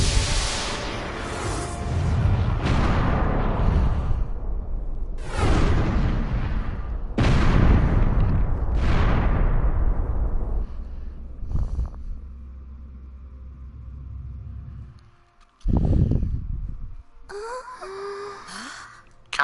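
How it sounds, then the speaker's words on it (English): Spaceship weapons fire in the video game Star Ocean: a string of loud, booming blasts at irregular intervals, each decaying into rumble, followed by a sharp burst and some higher electronic tones. "Incoming fire from the unknown vessel."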